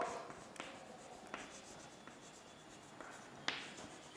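A pen writes an accounting journal entry on paper with soft continuous scratching, broken by a few sharper taps and strokes, close and quiet.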